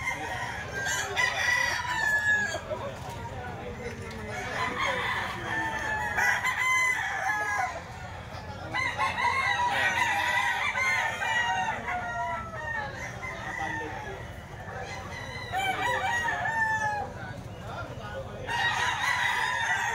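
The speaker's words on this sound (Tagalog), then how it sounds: "Manok to ni Boss Perry." A rooster crows again and again in loud, drawn-out calls with short gaps between them, along with some clucking from nearby fowl.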